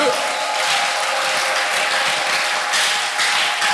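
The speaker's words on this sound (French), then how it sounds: "Est-ce qu'on peut acclamer la parole de Dieu?" Church congregation applauding and cheering together, a dense steady wash of clapping that fills the space without pause.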